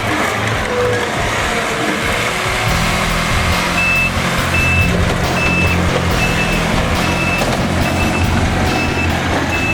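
A skid-steer loader's reverse alarm beeps in a steady, evenly spaced series over a loud, rumbling diesel engine working nearby.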